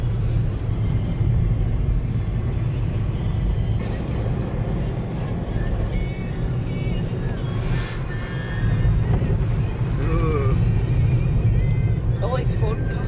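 Car driving along a snowy road on the Isle of Skye, a constant loud rumble of engine and tyres with wind buffeting, swelling briefly as another vehicle passes close by.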